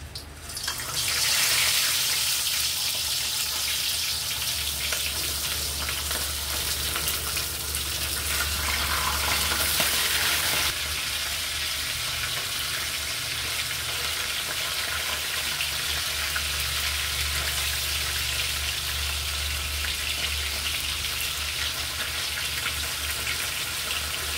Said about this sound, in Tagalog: At ang luya pala ay isabay na dyan. Yan po ay init na po ang mantika.